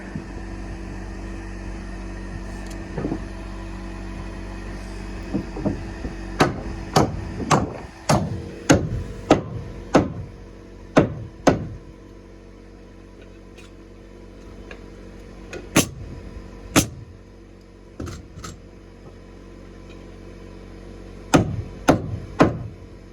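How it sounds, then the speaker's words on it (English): Nails are fired into wall studs during house framing, heard as a series of sharp, loud bangs, first in a rapid burst of about a dozen, then scattered single and paired shots over a steady low hum. "throw our weight into this wall and then fire nails into these studs to hold it out that 1/4 inch"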